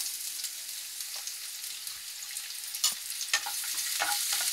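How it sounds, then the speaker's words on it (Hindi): Sliced onions frying in a few spoons of oil, heading toward golden brown for an okra chicken dish, a steady close hiss with a few sharp scraping stirs near the end, with no talking. "प्याज को हम पूरा गोल्डन ब्राउन करेंगे"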